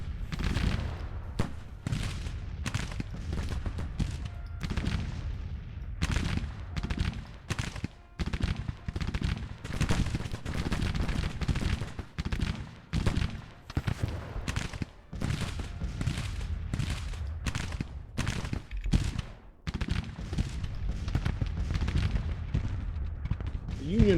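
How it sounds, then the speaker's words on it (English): Gunfire in the video game Grand Tactician during a furious firefight, heard as many cracking rifle volleys and scattered shots in an uneven rhythm throughout, with a voice speaking over much of it. "a furious firefight happening right now"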